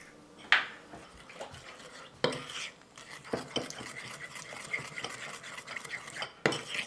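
Egg being stirred into pecan tartlet batter in a bowl, with a scraping, clinking utensil working in irregular strokes and a few sharper knocks against the bowl, close and moderately loud, no talking.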